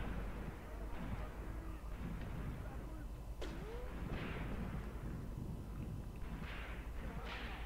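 Distant artillery fire in the WWII tactics game Graviteam Tactics, set around Kharkov in 1942: a few dull booms and thuds scattered over several seconds, faint beneath a low ambient rumble, with quiet voices in the background.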